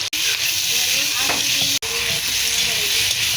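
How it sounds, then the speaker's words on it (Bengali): Elephant foot yam fries with green chilli, salt and turmeric in mustard oil, giving a loud, continuous sizzle with stirring scrapes and a couple of sharp clicks. "ভালো করে ভেজে নেব"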